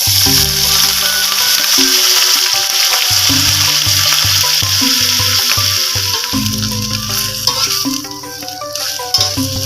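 Turi flowers hitting fragrant spice paste in a hot pan, a loud continuous sizzle and fry with scraping stirring strokes throughout, close and dominant.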